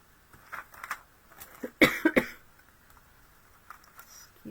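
Two quick coughs from a person close by, a sharp pair of bursts in an otherwise quiet room during a card-stamping craft session, with faint tapping and rustling around them.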